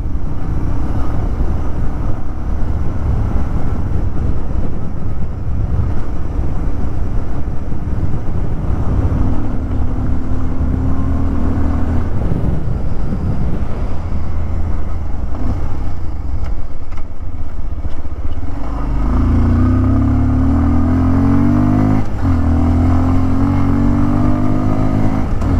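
A 2024 Bajaj Pulsar 150 dual-disc motorcycle ridden off-road, its engine droning steadily and loudly under heavy wind buffeting, with the pitch rising and shifting as it revs and accelerates near the end.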